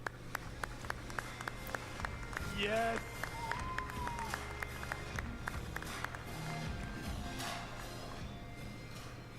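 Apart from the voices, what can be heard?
audience cheering and applauding a player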